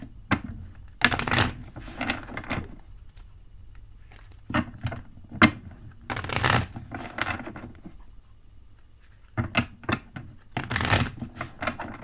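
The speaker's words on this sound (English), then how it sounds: "Go ahead and shuffle these cards up a little bit for you." Tarot cards shuffled by hand in several separate bursts of riffling and sliding, close and crisp, with quiet pauses between.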